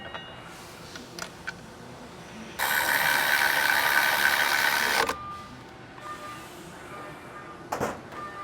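Ratchet working bolts into a racing brake caliper on a BMW/MK5 Supra, with a continuous loud whirring burst of about two and a half seconds between scattered quieter clicks and clunks.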